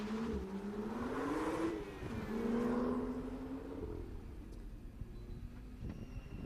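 A number 92 Mazda Miata race car runs an autocross course at Daytona, its engine note rising and falling as it accelerates and shifts, heard from moderate distance over wind noise and gradually fading.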